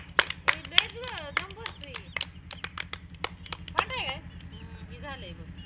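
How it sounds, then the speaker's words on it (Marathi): A few people clap in sharp, irregular bursts at a family gathering, close and fairly loud, mixed with overlapping speaking voices. "टाळ्या"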